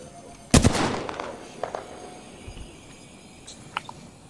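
One loud, sharp gunshot cracks out in an Apex Legends match, followed by a few faint clicks and small thuds.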